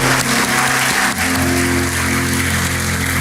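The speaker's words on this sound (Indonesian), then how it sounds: "Berikan tepuk tangan bagi Tuhan" A church congregation claps loudly and continuously, dense sustained applause with a faint tonal hum underneath.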